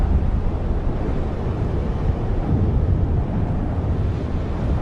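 Steady wind blows over Sulawesi in a dense, unbroken roar that buffets the microphone, loud and constant throughout with no other sounds standing out.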